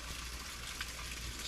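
Water from a natural spring along a trailside hiking route pours steadily into a container, a constant close rushing gush with no pauses.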